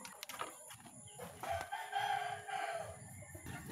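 Roosters at feeding time give off clucks and a drawn-out crow in a quiet farmyard, the calls fairly faint and somewhat distant, with scattered soft rustling and no talking.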